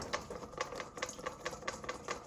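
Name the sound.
whisking salad dressing while dripping in oil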